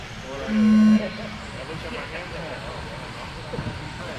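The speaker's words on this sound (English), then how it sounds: "We're going racing at the sound of the start tone." A single steady electronic start tone sounds for about half a second at an indoor RC car race, ringing clearly over crowd murmur and a public-address voice in a large hall.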